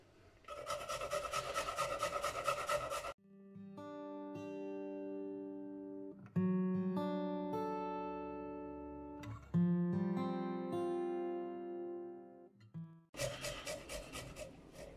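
Garlic rubbed against a grater into tzatziki gives harsh, rasping strokes at the start and again at the end, with sustained tonal music in between.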